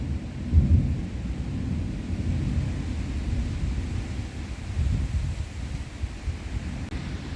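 A torrential rainstorm with thunder over a house in Roscoe, heard as a steady dense roar of rain with low rumbling swells of thunder throughout, loud and continuous, no voices.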